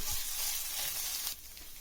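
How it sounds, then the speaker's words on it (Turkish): Steady, close sizzling and crackling of tomato paste frying in a hot pot, with a faint stirring scrape partway through. "salçayı birkaç dakika tencerede kavurmanız gerekiyor"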